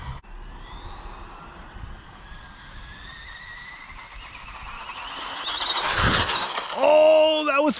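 A Redcat SG1603 RC car converted to brushless 3S power whines at speed, its motor pitch climbing steadily as it races past, with an excited voice whooping near the end.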